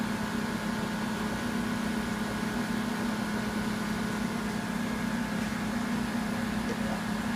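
A water-derived gas torch flame at about 3,200 degrees burns through an aluminum Arizona iced tea can, giving a steady, loud, close roaring hiss with a low hum that holds unchanged throughout.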